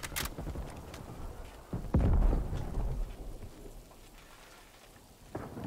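Rain and rolling thunder in the video game Call of Duty Black Ops Cold War, with a steady patter of rain and a loud, deep thunder rumble near the middle that fades out.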